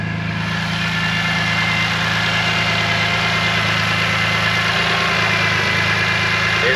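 A modified BMW M3 engine idles steadily and close by, a constant deep rumble with slight vibration, unbroken for several seconds and with no speech.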